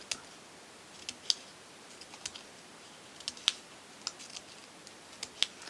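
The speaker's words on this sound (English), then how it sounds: "Now cut out all of these, between all of these tabs, because these are going to bend to the inside of your heart box." Scissors cutting tabs out of a paper heart box, a series of quiet, crisp snips spaced irregularly at close range in an otherwise still room.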